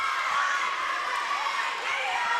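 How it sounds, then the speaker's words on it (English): Large crowd at a girls' varsity high school volleyball game in a gym, a steady murmur of chatter and shouting voices filling the hall at moderate level, with no single voice standing out. "big crowd out here tonight"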